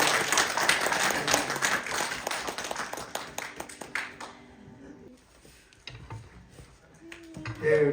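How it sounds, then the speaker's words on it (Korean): A church congregation claps together in a blessing applause, a dense crackle of many hands that runs for about five seconds, thins into scattered claps, and swells again at the end, with soft voices underneath. "예, 우리 축복의 박수."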